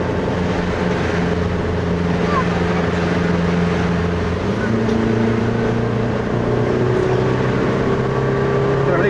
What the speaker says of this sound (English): Drives off in second gear.